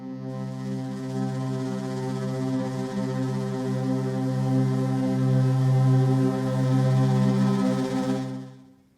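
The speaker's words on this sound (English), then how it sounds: "I'm going to load Pumping Thunder from the first Tails menu" Pumping Thunder is a braam tail sample from Symphonic Destruction, a huge brassy drone with thick low harmonics. It swells and pulses slowly for several seconds at full loudness, then fades out near the end, with no voices.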